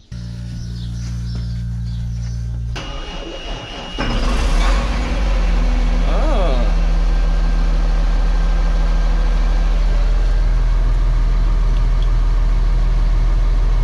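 A tractor engine starts with a sharp burst and then runs steadily at a loud, close idle, driving a pump on an ageing harvest-season machine; a brief voice is heard near the start.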